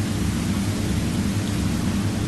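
Rain and thunder ambience in a rainy region of the video game Dark Souls 2: a dense, constant wash of rainfall over a deep rolling rumble, loud and unbroken throughout.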